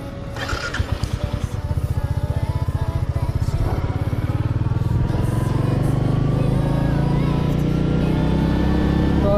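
A Royal Enfield Meteor 350 motorcycle on a test ride thumps at idle with a rapid pulsing beat, then the engine climbs into a steady, loud, close drone as it pulls away and holds speed.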